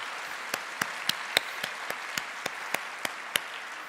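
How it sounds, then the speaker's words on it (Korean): A few scattered, slow handclaps, about a dozen sharp claps spaced across a few seconds, from a workplace missions conference audience greeting guests who came from overseas; sparse and fairly quiet. "박수 치자고 하지도 않았는데 박수를 열심히 쳐주세요"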